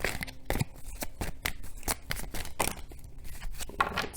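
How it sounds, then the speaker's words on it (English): Tarot cards being shuffled by hand, a quick run of papery riffles and slaps in irregular bursts, close and fairly loud, with no talking. "that's my poor shuffling"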